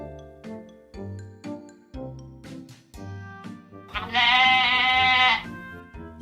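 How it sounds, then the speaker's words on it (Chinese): A farm-animal sheep sound effect: one drawn-out, wavering bleat lasting over a second, loud and close, set against light rhythmic music with plucked beats. "羊，"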